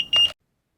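A Lumos bike helmet gives a single short electronic beep while pairing with its remote, a clear steady tone lasting a fraction of a second, close and alone, followed by silence.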